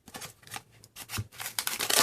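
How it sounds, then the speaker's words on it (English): Scissors snip through cardboard in a series of irregular crunchy cuts, close up with brief pauses between strokes. "Let's use some scissors."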